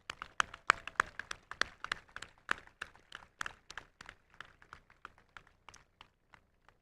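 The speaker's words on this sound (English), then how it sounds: "can we give them one more round of applause?" Sparse applause from a high school graduation audience comes as separate, distinct claps in an uneven rhythm. It sounds fairly faint and thins out over about seven seconds until only the last single claps remain.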